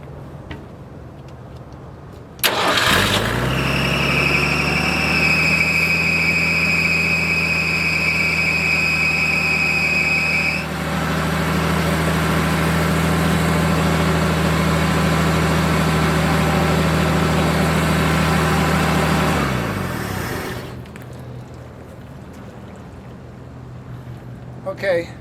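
A military forklift's engine cranks and starts, then settles into a loud, steady idle with a strong low rumble and whining tones, running continuously for about eighteen seconds before shutting off.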